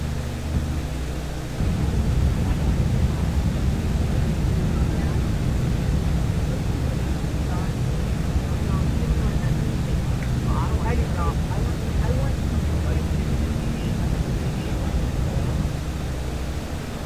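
Four piston engines of a PMDG DC-6 airliner at full takeoff power in X-Plane 11, a steady loud low drone that surges in after a brief quieter start and holds through the takeoff roll, with crew voices faintly over it.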